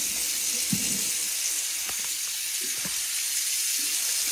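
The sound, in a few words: water running from a tap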